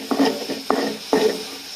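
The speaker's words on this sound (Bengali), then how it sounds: "একটু কষে নিচ্ছি।" Small shrimp and taro stolons are stirred and sautéed in a pan, with three scraping strokes of a utensil over a steady, close sizzle.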